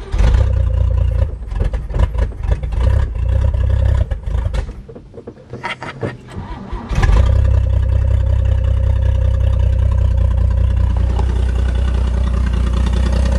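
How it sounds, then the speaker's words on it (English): A loud, rumbling V8 engine in a 1958 Pontiac Pathfinder cranks and sputters, briefly dips, then catches and settles into a steady, throaty idle through a straight exhaust. "Other than straight exhaust, that motor's nice and quiet."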